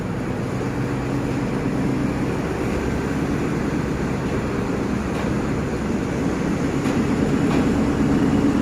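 A train rolls across the Chulalongkorn Bridge in Thailand with a continuous loud rumble and rattle, steady and close for the whole stretch.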